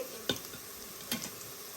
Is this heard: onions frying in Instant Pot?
yes